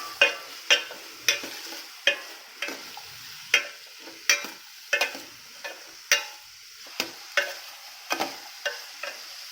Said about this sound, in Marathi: आता हा कांदा मस्तपैकी भरपूर वेळ असा भाजून घ्यायचा आहे त्याला तेलात